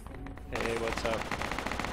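Machine gun fire in the military game Project Reality breaks out after a quieter opening, with a dense, sustained rattle of rapid shots that sounds fairly distant and fills the rest of the moment.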